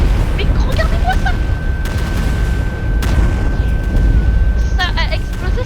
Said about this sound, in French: Ça a explosé sur toute la map.